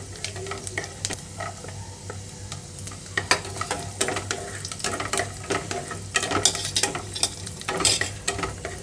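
Dry fruits and raisins frying in a pan for vermicelli payasam, a close, moderate sizzle under frequent sharp stirring scrapes and clicks that grow busier toward the end.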